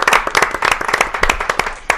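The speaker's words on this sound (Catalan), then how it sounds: "Aplaudiment per als dos, perquè ho heu fet especial" A studio audience on a Catalan television quiz show applauds two sporting clubs, a volleyball club and a billiards club, with dense, loud, steady clapping lasting about two seconds and no talking over it.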